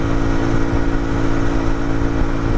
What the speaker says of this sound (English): I'm definitely giving it a little bit more gas, but we're maintaining speed.